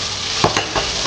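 Bay leaves stirred through onions and ginger frying in a pot under a constant close sizzle, with a few soft scraping strokes of a spoon standing out at a loose rhythm.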